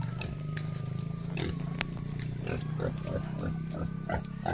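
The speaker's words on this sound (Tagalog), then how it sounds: "Baboy." A pig on a farm on a hot day grunts repeatedly in low, rough bursts close by, over a steady background hum.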